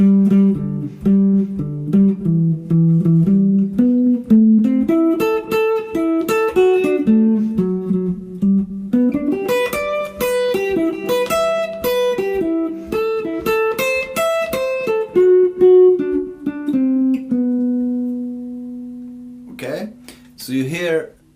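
Solo guitar picks flowing arpeggiated notes with no accompaniment, running steadily for a long stretch before a few closing notes and a faint slide.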